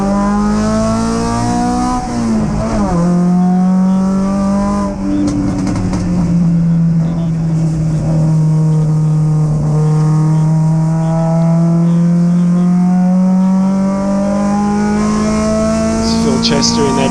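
MG race cars, including an MGB GT, racing on a circuit. Loud engines roar and rise and fall in pitch through gear changes as the cars pass close, while a commentator talks over them throughout.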